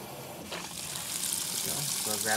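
Kenmore Elite Catalyst top-load washing machine filling with water, a close rushing gush that builds over a couple of seconds, with a voice speaking over it.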